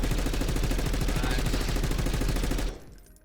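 Sustained automatic gunfire from a video game weapon, a rapid continuous rattle of shots lasting over two seconds before cutting off into a brief fading tail.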